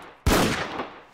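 One sharp gunshot from a war video game, a sudden loud crack that decays into a short rumbling tail, with no talking.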